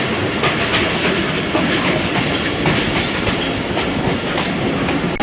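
Ravi Express passenger train between Lahore and Nankana rolling along the rails, with a continuous loud rumble and rhythmic clickety-clack heard from inside the carriage, steady throughout with no talking.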